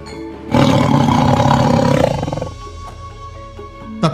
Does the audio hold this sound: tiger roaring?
yes